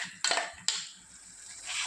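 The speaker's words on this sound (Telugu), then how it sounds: "ఈ మసాలా మిశ్రమాన్ని బాగా కలుపుకొని వేయించుకోవాలి" Masala paste being stirred into onion tempering in a pan for meal maker curry, with two sharp utensil scrapes against the pan followed by a soft continuous sizzle.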